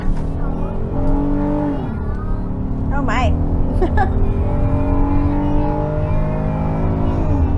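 A 2025 Honda Pilot crossover's V6 engine revs and pulls steadily, a continuous droning note rising in pitch, heard from inside the cabin under ongoing talk.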